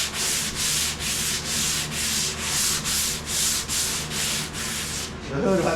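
A car hood is hand sanded in steady back-and-forth strokes, about a dozen rhythmic rasping passes. The sound is close and loud and ends with a brief shuffle.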